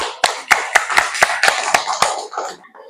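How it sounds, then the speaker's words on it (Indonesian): Classmates in a classroom clapping in unison for students who answered, about nine sharp, evenly spaced claps close by, loosening into scattered clapping before stopping. "Mari kawan-kawan kita beri tepuk tangan untuk teman-teman kita yang sudah menjawab."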